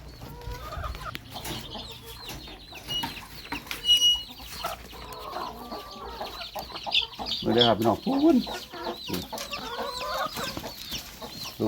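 Laying-hen chickens cluck and squawk in a busy flock at feeding time, bursts rising and falling, while someone talks intermittently over them.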